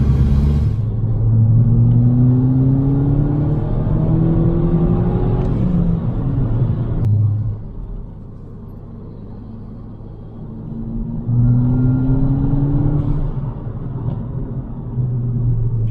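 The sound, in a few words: 270bhp VW Mk5 Golf GTI accelerating hard in second gear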